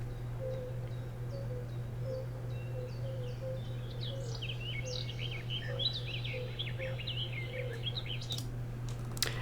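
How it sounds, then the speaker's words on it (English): Swamp birds chirp and twitter faintly over a low, steady hum, with scattered short calls and a few sharper clicks near the end. "Here are some like sounds of like birds and creepy sounds."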